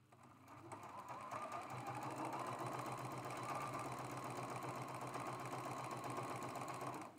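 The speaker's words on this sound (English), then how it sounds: "we're just going to sew this seam on all 4 of our half square triangles" A sewing machine runs continuously at steady speed, sewing a seam on half-square-triangle quilt blocks; the motor hum and needle chatter are close but fairly quiet, with no talking.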